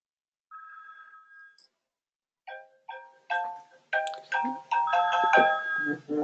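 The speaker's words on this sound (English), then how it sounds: "I have a phone going off here." A phone ringtone goes off: a single soft tone first, then after a pause a rising series of bright chiming notes that grows louder and denser, with no talking over it.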